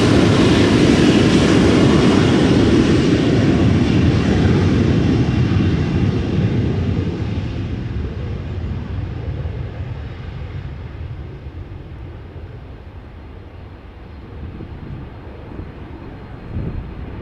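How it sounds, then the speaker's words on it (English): A Cathay Pacific Boeing 747-8 takes off from Amsterdam Schiphol, a loud broad jet roar that slowly fades as it climbs away, with no talk over it. "There's the Cathay Pacific 747-800 taking off to Hong Kong from center"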